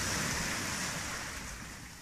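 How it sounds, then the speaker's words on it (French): Ocean waves wash onto the shore at night, a steady broad rushing surf that fills the whole stretch evenly and fades slightly toward the end, with no voices. "Il y a juste le bruit des vagues."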